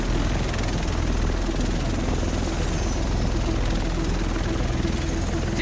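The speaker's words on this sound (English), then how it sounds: "Here it comes. The rest of us should be in this chopper." Helicopter arriving in the video game The Division, a steady loud rotor thump and engine roar running throughout, with voices and game sounds layered on top.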